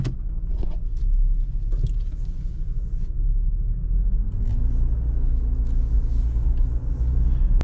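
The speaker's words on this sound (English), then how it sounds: "but we'll still take it for a quick little spin." A 2007 Nissan Xterra with about 240,000 miles drives along, giving a steady low engine rumble and road noise with a few light knocks and rattles from inside the cabin, heard without talk.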